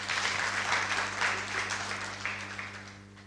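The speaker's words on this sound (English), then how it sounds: "Hand clap for President Ruto" Audience at a masterclass event applauding President Ruto, a steady wash of many hands clapping close by that gradually fades out over a few seconds.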